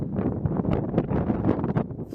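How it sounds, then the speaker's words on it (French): Strong wind high on Montserrat mountain buffets the microphone, a loud, steady roaring rumble with small gusting swells over about two seconds and no talking. "Il y a énormément de vent"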